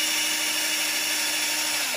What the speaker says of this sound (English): I didn't mark the bit to see how far I'm drilling in.